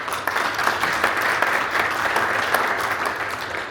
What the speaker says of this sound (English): So first of all, a round of applause.